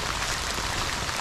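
Pouring rain falls steadily at a fishing spot, a constant bright hiss of drops with no break or voices.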